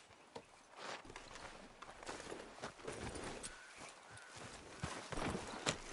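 Horse hooves clip-clopping at a walk in Red Dead Redemption 2, an irregular run of soft thuds on dirt, close and fairly quiet, with faint ambient background and no talk.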